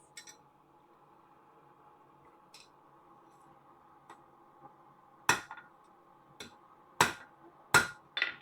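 Sharp metallic hammer strikes on a loose rivet in a quiet workshop by a forge, a few scattered light taps followed by several harder ringing blows over a faint steady hum.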